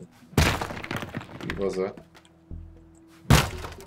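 An old house is smashed apart in the destruction game Teardown: heavy thunking impacts and breaking debris, two loud hits at the start and end, with someone talking in between.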